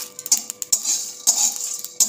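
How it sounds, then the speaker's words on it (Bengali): Whole spices such as coriander, cumin and three bay leaves being stirred in a pan for biryani masala, with light metallic scrapes and clinks of a utensil that come at an uneven pace and no talk. "এবার কিছুক্ষণ হালকা করে নেড়ে নেব।"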